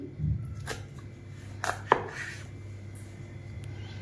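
A few crisp knife cuts through homemade chocolate chikki on a board, a light tap near the start and two sharper chops around the middle, close and fairly quiet over a low steady background hum.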